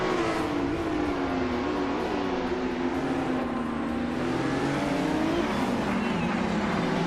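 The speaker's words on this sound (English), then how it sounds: "Scott Dixon is driving a 2018 Toyota FT1 GTE" Race car engine of a 2018 Toyota FT1 GTE in a racing video game, a continuous droning whine that rises and falls steadily with gear and throttle changes, heard alone.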